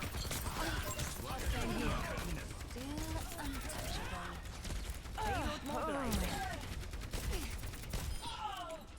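Rapid gunfire and weapon effects in an Overwatch match play under overlapping game voice lines and chatter, the shots forming quick bursts amid creaks and mechanical clicks at moderate loudness.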